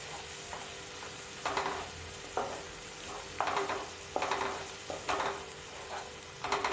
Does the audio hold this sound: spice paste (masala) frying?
yes